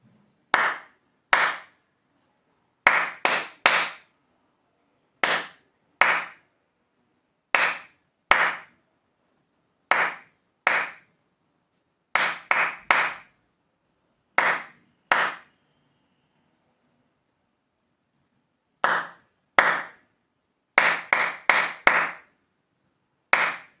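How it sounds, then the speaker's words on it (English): Crisp single hand claps tapping out the rhythm of a song's opening line, in short grouped bursts separated by silent pauses, close and dry with nothing else audible. "Clap the rhythm of the first line of the song."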